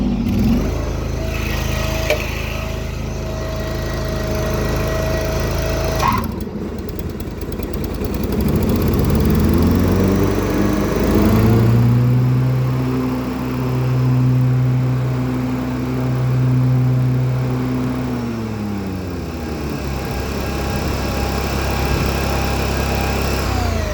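A 1997 Grasshopper 725K mower, freshly washed, cranks and its engine catches, then runs steadily nearby. The idle rises and falls through several rev changes, with no talk over it.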